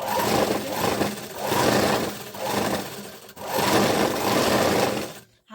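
A sewing machine stitches a blouse in close, loud runs of rapid mechanical chatter, four bursts separated by short pauses before it stops.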